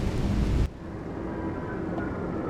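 Heavy rain and thunder in the Rimworld video game, a loud broad rumbling roar that cuts off sharply, leaving a steady softer rain hiss.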